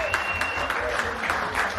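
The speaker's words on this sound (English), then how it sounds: "Round of applause for everybody here," A round of applause from an audience at a live talk, continuous full clapping with some voices underneath.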